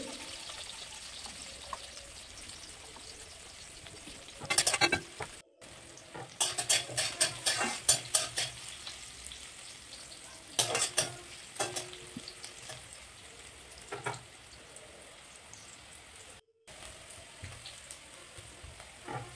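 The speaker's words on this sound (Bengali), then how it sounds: "একটুখানি কড়াতে তেল দিয়ে দিচ্ছি, উচ্ছাটা ভেজে নিচ্ছি লাল করে।" Bitter gourd fries in oil in a wok, a steady soft sizzle broken by bursts of loud stirring and scraping strokes, with short gaps and no talking.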